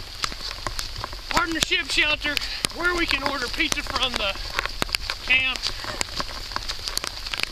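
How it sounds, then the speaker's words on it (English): Rain falls on the Appalachian Trail during a multi-day hike, a steady light patter and scattered drips under people talking throughout. "It is our 4th day to hike in the rain."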